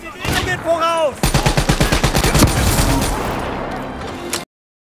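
Rapid automatic gunfire in Call of Duty Black Ops 3 campaign, a fast steady stream of loud shots lasting a few seconds, preceded by other game sounds and ending abruptly.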